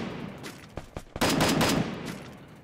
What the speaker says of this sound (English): he's gonna start hearing gunshots